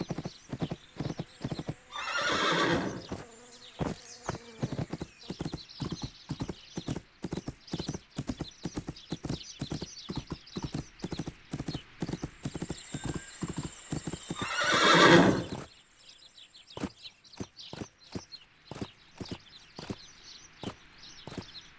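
Hooves clip-clop in a steady rhythm through a riding game, My Little Riding Champion, with a loud horse whinny near the start and another near the end.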